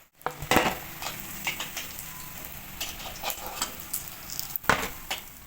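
Cauliflower and potato chops being lifted from hot frying oil, with a steady low sizzle under scattered clinks and scrapes of a utensil against the pan, one sharper clatter near the end.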